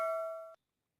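A single bright notification bell chime rings clearly for about half a second and then cuts off abruptly into silence.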